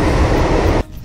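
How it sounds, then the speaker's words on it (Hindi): A metro train roars loudly and steadily beside a station platform. The heavy rumble cuts off abruptly near the end, leaving only quieter background noise. "मेट्रो भी चली गई है"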